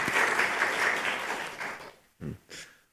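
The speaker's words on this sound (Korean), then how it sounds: "박수." A church congregation at an autumn special dawn prayer service breaks into applause. The sustained clapping fades out, followed by two short bursts of sound.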